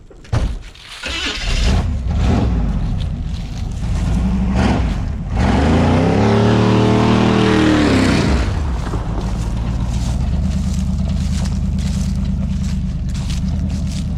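A 1968 Ford F100 truck engine cranks and fires, revving up to a loud climbing roar mid-clip before settling into a steady, close rumbling idle.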